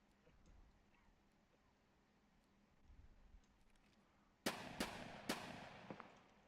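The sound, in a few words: gunshots from a video game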